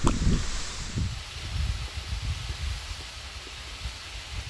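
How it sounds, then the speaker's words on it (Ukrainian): Gusty wind roars and buffets the microphone, with rustling and low rumbling bursts rising and falling throughout. "бо вітер роздувся просто ну, шалений"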